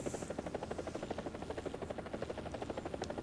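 MD500 Little Bird helicopter flying in the video game War Thunder, its rotor beating in a fast, steady, even thump that stays loud and close throughout with no talk.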